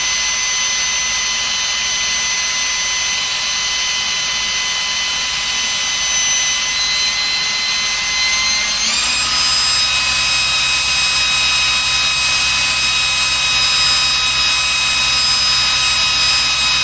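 A cruise control test rig for a Ford Cortina spins up to speed with a loud, steady high-pitched whine of motor and rotating parts, shifting tone partway through and holding on continuously, with no talk.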